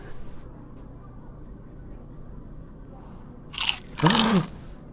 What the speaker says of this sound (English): Oh, I can eat the insects.